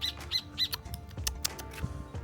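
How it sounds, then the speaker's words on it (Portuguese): A bird sings outdoors near a cabin, repeated bright chirping notes in quick series followed by a few scattered calls, fairly close over soft background noise. "Olha o pássaro cantando."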